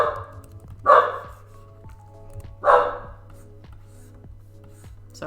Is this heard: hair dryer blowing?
no